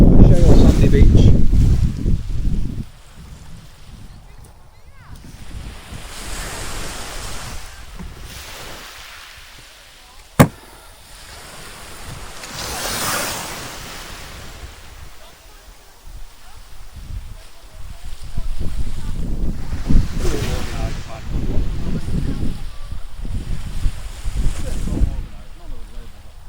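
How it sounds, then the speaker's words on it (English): Surf rolling onto a steep, shale-and-sand beach on the north coast at Blyth, with waves breaking and washing back at moderate distance under steady wind rumble on the microphone; a brief sharp knock interrupts midway. "It's a really steep drop off, sort of a shale sandy beach."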